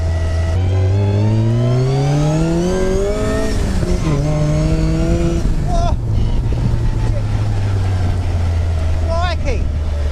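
A Striker 240S sports car on a test drive accelerates hard, its engine note climbing through the gears in loud rising sweeps with brief drops at each shift, heard close from inside the car.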